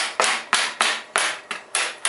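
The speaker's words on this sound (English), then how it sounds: "judiciously use my hammer just to knock this back into shape" Hammer blows knocking the lower ring of a metal garden obelisk back into shape, with eight sharp, evenly spaced strikes in quick succession, loud and close, each leaving a short ringing decay and no talking.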